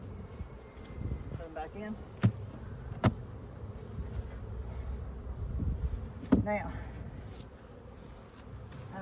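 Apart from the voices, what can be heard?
honeybees buzzing around open hive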